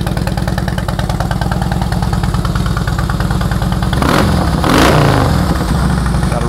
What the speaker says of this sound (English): Real nice sound with those Vance and Hines exhausts.